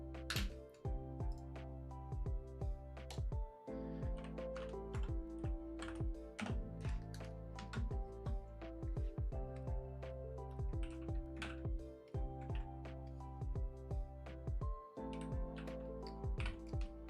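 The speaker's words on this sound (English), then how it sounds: "This new keyboard, the keys are slightly differently arranged than my old one, and I'm not very good at using them yet." Typing on a new computer keyboard, a rapid run of close, crisp key clicks in uneven bursts with brief pauses, no voices heard.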